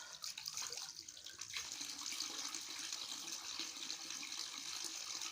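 Cold water pours from a fountain at a picnic area below a dam in a steady, continuous splashing rush, moderately close, with outdoor ambience and no talk.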